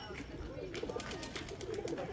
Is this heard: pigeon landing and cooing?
yes